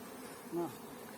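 Honeybees buzzing at a beehive during work on a swarm, a faint steady hum with a brief closer swell as a bee passes near.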